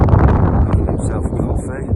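Strong wind on Dartmoor blasts into an outdoor microphone, a loud continuous low rumble and buffeting for the whole stretch, with breathy speech-like sounds mixed in.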